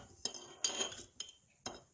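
A spoon presses down chopped onion sprinkled with sugar in a container, giving a few quiet, separate metallic clinks and scrapes at close range.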